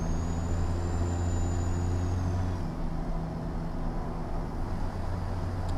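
A loaded Freightshaker Classic XL truck in American Truck Simulator drives along the highway with a steady loud engine drone, a faint high whine fading midway as the tone shifts.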